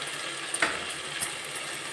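Minced mutton keema frying in a pan with fenugreek leaves, coriander and kasuri methi, a steady soft sizzle with a few brief clinks of stirring.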